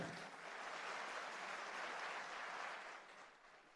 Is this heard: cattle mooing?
no